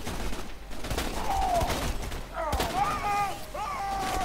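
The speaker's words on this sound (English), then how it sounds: "Oh god, they're shooting us. I want... With guns, no less." Co-op shooter gunfire in Borderlands 2, bursts of rapid shots and booms mixed with whistling weapon effects, fairly loud and busy, with a person speaking over part of the action.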